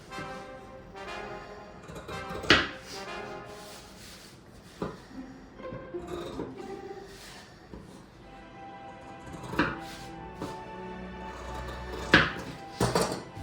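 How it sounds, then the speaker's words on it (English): Scissors trimming the fabric corners off sewn parka pockets, a few crisp snips with soft handling rustle between them, close and fairly quiet. "What we want to do is trim off these corners."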